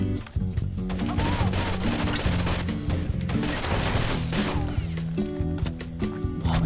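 Constant video game gunfire in Terrorist Hunt mode on a Havana map, with dense rapid shots and overlapping bursts throughout and a steady musical backdrop underneath.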